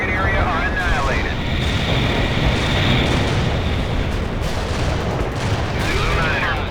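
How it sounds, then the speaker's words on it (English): Artillery fires in the war game World in Conflict during a battle in Pine Valley. It is a loud, continuous rumbling barrage with dense low booms and rushing wind-like noise that swells and holds for several seconds. "Artillery firing."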